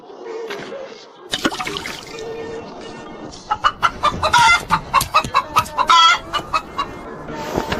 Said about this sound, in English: These birds are way too delicate.